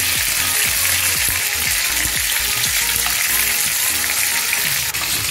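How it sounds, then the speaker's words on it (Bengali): Tomatoes and cashew nuts fry in a covered pan while matar paneer is being made. A loud, continuous sizzle runs throughout with faint popping and no talking. "ঢাকা দিয়ে রেখেছিলাম টমেটো কাজু বাদাম, প্রায় ভাজা ভাজা হয়ে গেছে"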